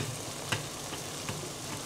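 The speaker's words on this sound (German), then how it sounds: "das Wasser kocht jetzt für die Spaghetti." Water boiling in a pot for spaghetti, a faint steady bubbling hiss with a few soft pops, no talk.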